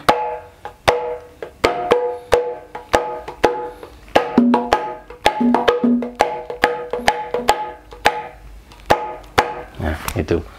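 Sharp, ringing kendang hand-drum strokes, the clean "pang" stroke, are struck in a quick, steady pattern, each hit crisp and resonant, played close and alone.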